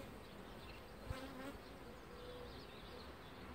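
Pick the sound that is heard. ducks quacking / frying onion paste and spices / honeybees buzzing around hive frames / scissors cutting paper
honeybees buzzing around hive frames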